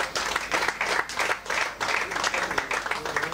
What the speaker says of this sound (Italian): Un applauso alla Virtus Fondi Calcio 5